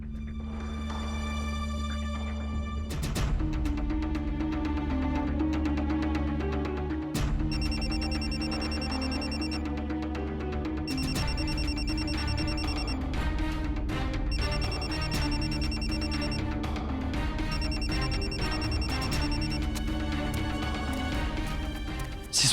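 Mobile phone ringing on an incoming call, with a steady electronic ringtone repeating in regular bursts over a sustained musical tone, loud and close, and no talking.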